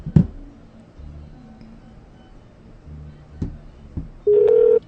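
A telephone being dialed produces a few faint clicks and ticks, followed by one short steady tone near the end, close and quiet.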